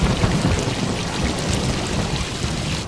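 Heavy rain pours down steadily with thunder rumbling low underneath, a dense, loud, unbroken wash of noise lasting a few seconds with no voices.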